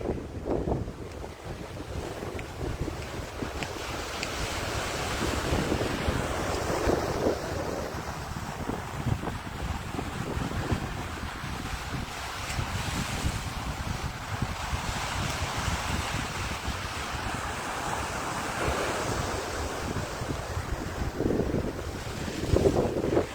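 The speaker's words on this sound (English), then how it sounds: "So here's the ocean. I gotta hang on to my hat. It's really windy." Steady roar of strong wind buffeting the microphone over rolling ocean surf at Palm Beach, Florida, continuous and loud throughout with no voices.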